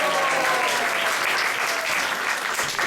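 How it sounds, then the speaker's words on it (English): An audience at a Sunday class in an ISKCON temple gives a round of applause, a loud continuous wash of many hands clapping close by. "So let's give a round of applause for her."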